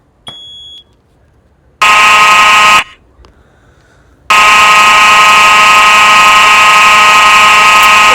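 A 1990s Simplex 4903-9220 fire alarm horn blares in loud, harsh buzzing blasts. A short first blast is followed by a pause, then the horn sounds continuously and piercingly close by.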